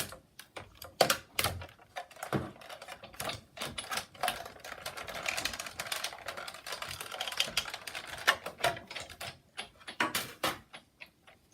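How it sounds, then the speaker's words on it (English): A Big Shot die-cutting machine is cranked to push a card through a country floral embossing folder, giving a quiet series of irregular clicks and ratcheting knocks with short pauses between them. "Fold it, and we're going to run it through our Big Shot."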